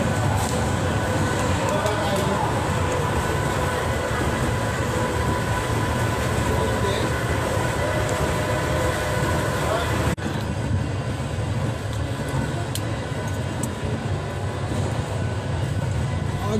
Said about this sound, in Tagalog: Dito po kami ngayon sa tren na maliit.